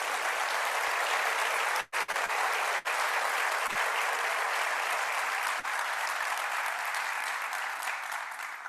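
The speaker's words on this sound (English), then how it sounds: "Please join me in a round of applause." A convocation audience gives a sustained round of applause, a full, even wash of many hands clapping that fades slightly toward the end, with no voices over it.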